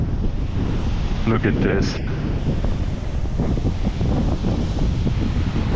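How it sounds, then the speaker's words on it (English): Giant ocean waves break on the Moroccan coast, a loud roar of surf mixed with heavy wind buffeting close by, while a person speaks briefly over it. "These waves are giant."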